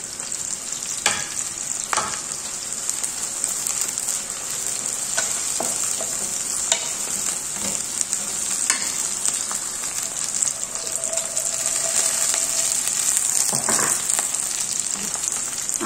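Onion and green chillies sizzle in oil in a home kitchen pan, a continuous close hiss broken by repeated scraping strokes of a spoon stirring the mixture, no voices.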